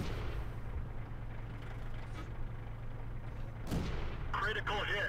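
World of Tanks gameplay: a BT-7 tank's gun fires with a single sharp boom, followed by a hit impact sound, over a steady low engine rumble, with someone speaking.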